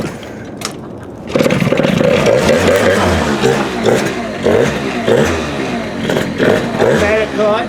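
Homemade mini Harley-style motorcycle with an automatic CVT clutch, its small engine starting up after a moment of quiet and then revving loudly and unevenly close by, with people talking over it.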